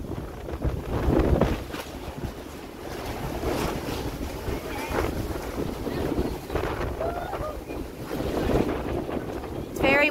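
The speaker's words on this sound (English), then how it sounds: "Windy again." Gusty wind outdoors by the water buffets the microphone in rumbling bursts that swell and ease repeatedly, with the wash of water underneath and no clear speech.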